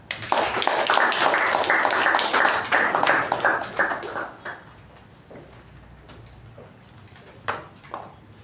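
An audience at a Toastmasters club meeting gives a loud, dense round of applause welcoming the table topic master. The clapping fades after about four seconds, leaving a few scattered claps.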